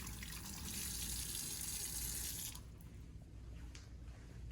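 A tap runs steadily as a dental appliance is rinsed, a close, even rush of water for a couple of seconds before it stops abruptly, leaving faint room noise.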